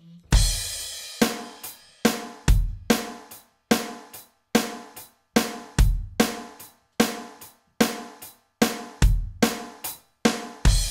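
Rock drum kit playing the chorus groove of a song at a Grade 1 level, with steady repeated kick-and-snare hits and cymbal wash in a clear, even rhythm, up close and with no talking.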